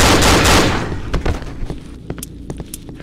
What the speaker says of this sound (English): Heard just a ton of gunfire and it scared the shit out of me.